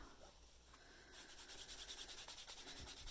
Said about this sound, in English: grabbing that white towel, this time really, really giving it a rub